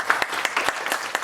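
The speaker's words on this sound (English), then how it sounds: "We do want to give them a round of applause for excellent." A short burst of scattered clapping from a concert audience applauding a youth group, with distinct individual hand claps close by.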